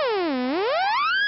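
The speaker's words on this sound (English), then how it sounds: "This is the sound of the roll oscillator" A LittleBits synth oscillator puts out a buzzy tone that sweeps down and then glides back up in pitch, giving a boing-like bend, steady and fairly loud with nothing else heard.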